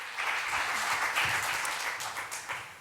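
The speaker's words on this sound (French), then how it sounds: "On peut les applaudir, en effet." Steady applause from a conference audience at a Belgian employment event, a dense, even patter of many hands clapping at moderate distance for about three seconds, tapering slightly near the end.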